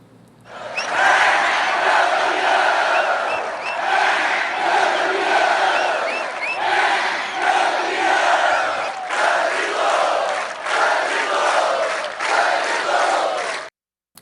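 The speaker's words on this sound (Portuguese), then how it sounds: "A torcida da Chapecoense lotou o estádio Índio Condá, ontem teve até grito de "é campeão"." Chapecoense supporters chant in unison inside the packed Índio Condá stadium, a loud, sustained crowd roar with rhythmic swells lasting throughout before cutting off abruptly.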